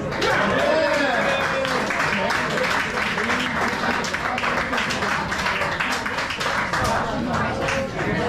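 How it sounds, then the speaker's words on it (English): Listeners at a 2024 poetry reading give a warm round of clapping, a dense, steady patter of many hands lasting several seconds, with a voice speaking over the applause part of the way through. "Let's have a round of applause for Jim Dunn."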